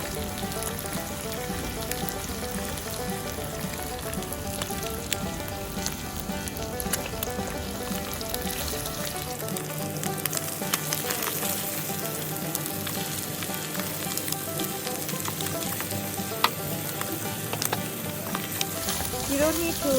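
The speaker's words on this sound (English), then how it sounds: "You let the egg cook first, and then you can cook prawn after this." Prawns for pad thai frying in a pan after the egg, giving a steady, crackling sizzle with occasional stirring scrapes, close and moderately loud throughout without speech.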